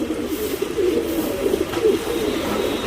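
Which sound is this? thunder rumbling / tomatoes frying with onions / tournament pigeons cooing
tournament pigeons cooing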